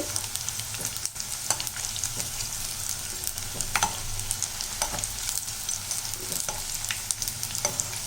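Evening snack pieces frying in hot oil and being turned one by one, giving a steady close sizzle with light intermittent taps and scrapes from the turning utensil.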